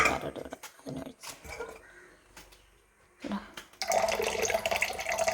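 Tamarind water is poured into a clay cooking pot holding curry leaves for a Kerala-style fish curry. It comes as a steady, fairly loud splashing rush near the end, after a few soft knocks and handling noises, with no talking.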